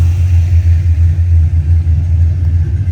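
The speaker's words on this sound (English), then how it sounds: "That V8's just purring right along, ready to go have fun." A 1995 Ford Mustang GT's V8 idles steadily, a deep, even low rumble that holds close and loud from start to finish with no voices over it.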